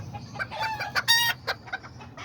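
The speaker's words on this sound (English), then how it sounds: "That little rooster right there" Chickens cluck steadily in a backyard flock while a small rooster lets out a brief crow in the middle, all close by with no talking.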